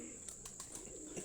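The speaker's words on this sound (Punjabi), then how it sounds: "ਇਸ ਟਾਈਮ ਕਬੂਤਰ ਸਾਡੇ ਉੱਪਰ ਚਲੇ ਗਏ ਨੇ" Pigeons fly overhead during a pigeon-flying competition, with several quick, faint flutters and soft bird calls heard from a distance over a quiet outdoor background.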